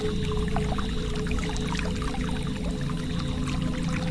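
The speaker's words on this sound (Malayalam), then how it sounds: "വെള്ളം പതഞ്ഞൊഴുകുന്ന ഒരു ശബ്ദം" Water gushing and foaming along a forest stream, a constant close pouring rush with bubbling splashes on top, steady and loud with no pauses.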